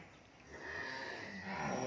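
Cattle moo at a cattle farm in Mỏ Cày Bắc, Vietnam, a single long drawn-out call rising and swelling steadily, fairly close and clear over quiet farm background.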